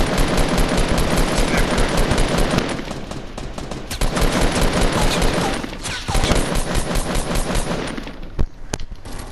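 Rapid automatic gunfire in the video game Fortnite, loud bursts of fast repeated shots with brief pauses between volleys.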